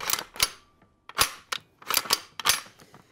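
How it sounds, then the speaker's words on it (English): A replica Thompson submachine gun is handled as its bolt is worked and the magazine is pushed in and pulled out, making a series of sharp, close metallic clacks and snaps with short gaps between them. "the bolt runs, the magazine comes in and out"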